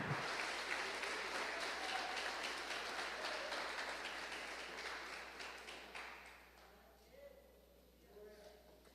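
A church congregation claps for Jesus, loud and dense at first, then thinning and fading out over the last few seconds.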